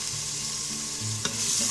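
A thick ginger, garlic, tomato and onion paste is stirred as it sautés in an Instant Pot, giving a steady close sizzle broken by soft scraping strokes.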